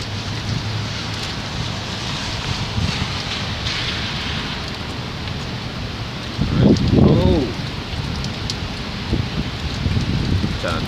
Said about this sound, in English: Hopefully this rain slow down,